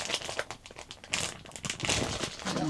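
Cheap plastic wrapping on a pack of new paint brushes crinkles and tears in quick bursts, loud and close, with no voices over it.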